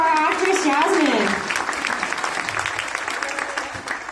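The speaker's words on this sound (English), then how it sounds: "Have a round of applause for our actress, Jasmine." Audience applause for a volunteer at a live animal-actors stage show, a full crowd clapping steadily and tapering slightly, with a presenter's voice heard over the first second.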